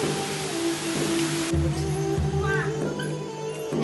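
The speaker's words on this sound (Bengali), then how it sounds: "তো এখানে বাইরে চলছে খুব ঝড় বৃষ্টি" A heavy storm rages outside a house with wind and pouring rain. The rain makes a steady, loud broadband hiss that stays constant across the clip, with low tonal hums and clattering household sounds layered on top.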